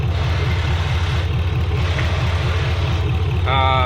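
A V8 LS engine swapped into a 1999-2007 Silverado/Sierra truck idles while warming up, a steady, throbbing low rumble close by, and a voice begins talking briefly near the end.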